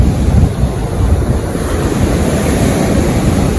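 Sea waves wash up on the shore at night near Velankanni, a loud continuous rushing surf with wind buffeting the microphone and no talk.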